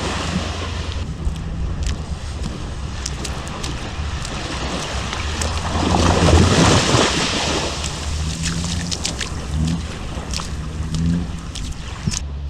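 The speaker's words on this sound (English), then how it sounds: "the very moment that I'm here at the beach" Waves wash onto a beach in Thailand, a continuous rush of surf mixed with wind buffeting the microphone, swelling louder midway before settling back to a steady roar.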